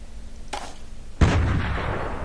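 Gunfire in the video game Stalker Online: a faint crack and then one loud, sharp gunshot whose boom rings out and decays over a steady background.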